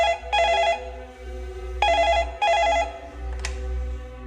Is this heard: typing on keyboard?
no